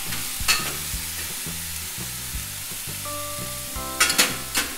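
Tomatoes, ginger and green chilies sautéing together in a pan for paneer lababdar, steady frying sizzle with a rhythmic low clatter and a few sharp spoon scrapes, close and with no speech.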